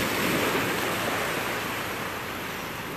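Morning surf on Clearwater Beach, a steady, full wash of breaking waves rushing in and receding, close and continuous with slight wind noise and no voices.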